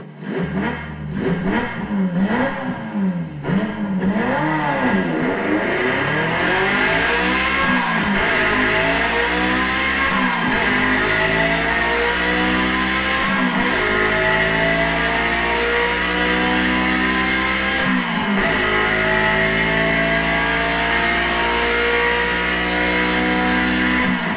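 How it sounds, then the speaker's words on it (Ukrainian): A loud car engine revs hard and repeatedly, rising and falling in pitch, then roars through a series of gear changes as it accelerates. "Гучні звуки двигунів автівок, мотоциклів та мопедів"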